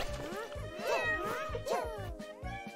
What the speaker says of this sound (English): there's this cat at the bottom of the screen right now that just shoots out more of that dust stuff